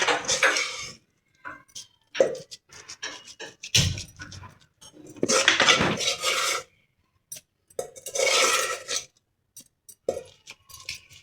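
Knife scraping and cutting through coconut burfi set on a greased plate, a series of short rasping strokes and scrapes in bursts separated by pauses, close and moderately loud.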